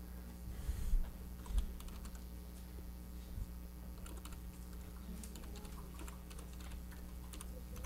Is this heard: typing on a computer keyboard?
yes